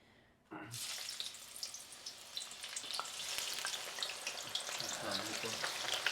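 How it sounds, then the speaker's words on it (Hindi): Sliced onions drop into hot oil and break into a loud, steady sizzle that keeps crackling without a pause. "यहाँ पे जो है ना मैंने ऑयल रखी हुई हूँ, गरम हो गई है, और अब हमने सबसे पहले फ्राई करनी है अपने ऑनियन।"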